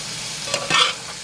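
Vegetables cooking in a pan, a brief close hissing sizzle that swells briefly with a quick stir before settling back, with no talking.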